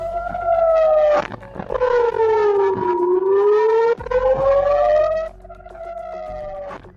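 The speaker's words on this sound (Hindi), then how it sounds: "जिसकी वजह से यहां पर हवाई हमलों के सायरन बजने लगे" A loud air raid siren in northern Israel wails continuously during a Hezbollah drone attack, its pitch sweeping down and back up in a long rising-and-falling tone.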